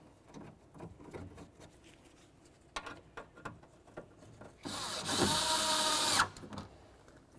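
Bolts are driven into a 2003-08 Toyota Matrix front window regulator, heard as faint taps and clicks before a short, louder whirring burst from a power driver.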